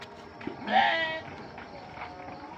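A single sheep bleats once, close and clear, over faint background noise, as sheep are herded indoors on a winter day.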